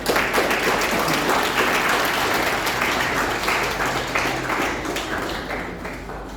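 An audience claps for the judges at the concluding prize session of a competition event at Nirmal Sadan, Jagdalpur, with dense, continuous applause that stays loud and steady for about six seconds before easing off slightly.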